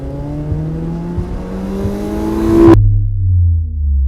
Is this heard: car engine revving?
yes